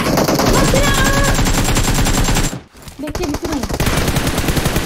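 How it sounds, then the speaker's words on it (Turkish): Rapid UMP submachine gun bursts in a PUBG match, loud dense automatic fire running for a couple of seconds, then a brief drop and quieter shots continuing, with a voice speaking over it. "Sağdan biri sıktı UMP ile."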